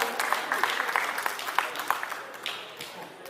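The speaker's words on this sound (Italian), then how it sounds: "congediamo i nostri cantatori sempre con un buon applauso" Applause sends off Sardinian guitar-accompanied folk singers as they leave the stage at a Logudorese song event in Ozieri; moderate, steady clapping with a few sharper claps, gradually thinning toward the end.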